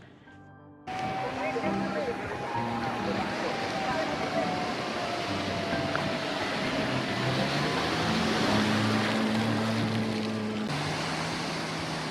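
A jet ski roars steadily across the sea off Calangute Beach, Goa, engine drone mixed with wind and splashing, pitch shifting slightly as it moves.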